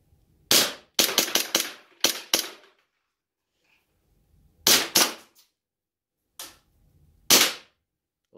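Airsoft Glock pistol firing in a quick burst of sharp pops, then a few more spaced single shots, close and loud with near silence between, ending as the slide locks back.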